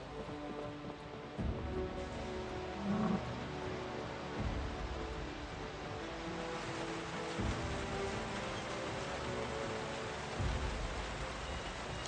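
Steady rain and rumbling thunder in the Project Zomboid video game, a continuous rainfall with several low thunder rolls rising through it, no voices.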